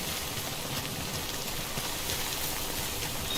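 Continuous rain in the video game Death Stranding pours in a dense, even hiss with no break and no voices.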